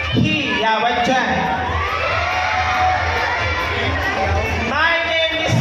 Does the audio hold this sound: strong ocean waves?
no